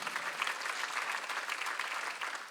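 A church congregation claps in praise to God during a Sunday worship service, producing a soft, steady, continuous patter of many hands that sounds somewhat distant, with no talking.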